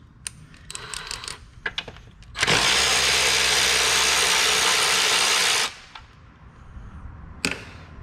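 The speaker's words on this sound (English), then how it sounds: "we're gonna go ahead with a 12mm and we're going to remove these 5, well technically 3 of these are bolts and the bottom 2 are nuts" A 12mm wrench on the bolts and nuts of a Honda engine's valve cover: scattered metallic clicks and clinks, then a loud, continuous ratcheting burst lasting about three seconds, followed by a few more taps and clanks.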